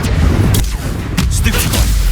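A spell cast in the Hogwarts Legacy video game lands as a series of loud booming blasts and whooshing bursts over a dense, continuous game soundscape.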